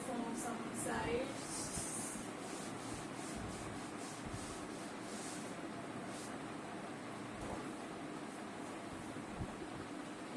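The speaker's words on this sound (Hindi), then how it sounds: "लेट मी रब the board from some side." A board is rubbed clean during a classroom lecture on DNA, producing a steady, continuous scrubbing hiss that runs throughout at moderate level, with a few sharper scrapes and faint background noise.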